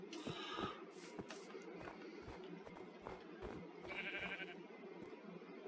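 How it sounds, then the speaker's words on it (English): Several sheep bleat in Minecraft, with a few short bleats standing out over soft footstep-like thumps and a faint steady background, fairly quiet overall. "Look at all these sheep."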